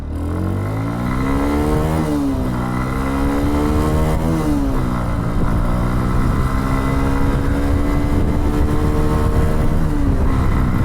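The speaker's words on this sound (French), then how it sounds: "je vais vous montrer déjà l'accélération que ça a" A Kymco 125cc enduro motorcycle in first gear, its engine loud and close, revving up in rising sweeps that climb, drop back and climb again, then holding a high, buzzing, rattly drone.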